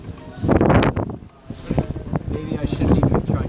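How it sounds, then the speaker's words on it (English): Strong outdoor wind gusts of about 40 miles an hour buffet the microphone in loud, rumbling bursts that rise and fall, with a person talking through the noise. "that was a 40-mile-an-hour gust there"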